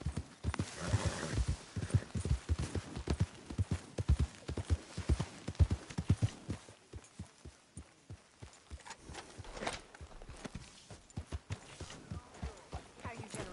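Hooves pound in a steady rhythmic gallop as a horse runs in Red Dead Redemption 2, loud and close at first, then softer with scattered game sounds.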